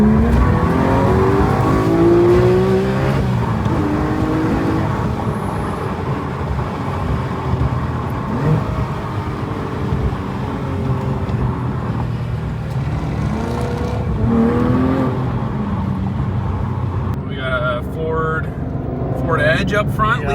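Cars revving and driving past at a Cars & Coffee meet, a continuous loud roar of engines with rising and falling revs, while people talk over the noise nearby.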